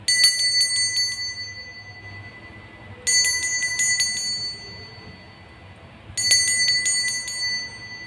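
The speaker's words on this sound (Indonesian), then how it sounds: "Kita akan memulai dengan ditandai lonceng berbunyi." A small bell rings three times in clear bursts, each a quick cluster of bright metallic dings with a ringing decay, spaced about three seconds apart over quiet background.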